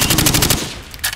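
Rapid hip-fire bursts from a rifle at shooting-range targets in Call of Duty 4: Modern Warfare, a loud rattling string of shots that breaks off, followed by a brief renewed burst.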